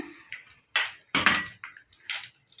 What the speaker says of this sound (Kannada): ಈಗ ಜೀರಿಗೆ ಹಾಕ್ತಿದ್ದೀನಿ